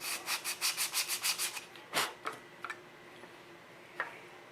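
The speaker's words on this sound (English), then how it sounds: "so I just want to sand it a little bit" A wooden drawer is sanded by hand to ease a tight fit, a quick burst of about ten rhythmic rasping strokes followed by a few isolated scrapes and taps, close and fairly quiet.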